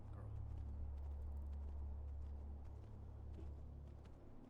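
Faint, steady clip-clop of horse hooves on a mount ridden in Skyrim's survival mode, nearly buried under a low continuous hum.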